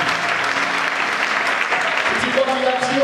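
A church congregation in worship gives loud, sustained applause and acclamation, a steady wash of clapping and cheering voices throughout.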